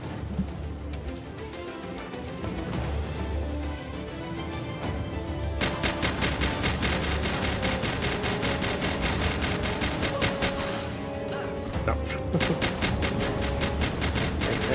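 Rapid automatic turret gunfire in the video game Palworld, loud and sustained bursts of dense repeated shots that pause briefly and resume, with no talk over it.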